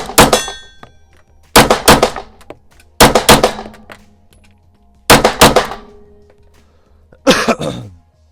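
A Sig Sauer P226 S Sport compensated pistol fires five loud, sharp shots at close range, spaced one to two seconds apart, with two of them fired as quick doubles, each blast followed by a short ringing decay.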